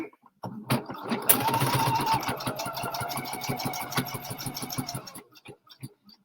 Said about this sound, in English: And then I'm going to stitch down to the end of my square.